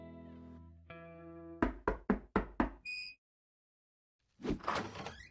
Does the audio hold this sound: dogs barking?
no